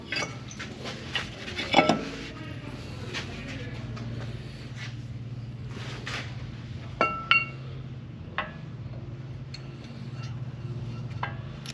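New brake rotors fitted onto a Jeep, with scattered metallic clinks and knocks of parts and tools over a low steady hum, a few sharper clanks standing out.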